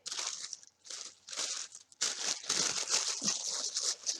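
Paper wrapping is crinkled, crunched and torn open around a Tarot de Paris card deck, a close, continuous rustling in several bursts with brief pauses.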